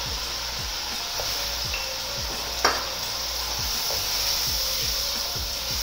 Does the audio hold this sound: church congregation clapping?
no